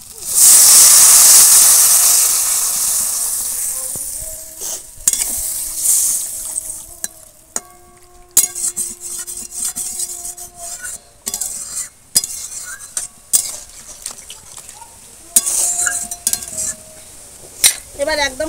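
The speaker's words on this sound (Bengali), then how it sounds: "এবার পরিমাণ মতো জল দিয়ে দেবো।" Water poured into a pan of frying potatoes for a Bengali river fish curry gives a loud initial hiss and sizzle, then settles into steady bubbling with repeated clinks and scrapes of a stirring spoon against the pan.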